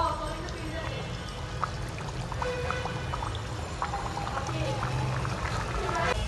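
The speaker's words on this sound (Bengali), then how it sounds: "পুরিটা ছেড়ে দিলাম তেলে।" Potato-stuffed puris frying in a pan of hot oil give a steady, close crackling sizzle with fine bubbling that holds evenly throughout.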